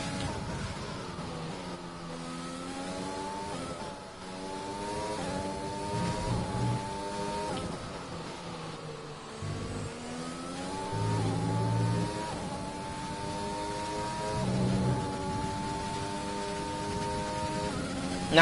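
An F1 race car in F1 2020 at Belgium's Spa circuit revs hard through its gears down a hill, the high engine whine climbing and dropping with each shift, sustained and close.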